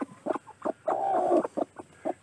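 Broody hens sitting on eggs cluck close by in short, repeated bursts, with one longer drawn-out call in the middle.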